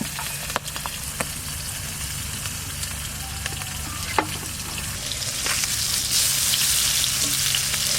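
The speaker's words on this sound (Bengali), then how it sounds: "হালকা ভাজবো মাছটা" Pabda fish, a Bengali river catfish, frying lightly in hot oil in a home kitchen, giving a steady close sizzle that swells louder toward the end, with no voices.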